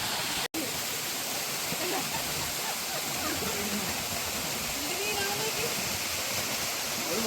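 Blapila waterfall at Chengara, a steady broadband roar of falling water filling the scene throughout, close and continuous.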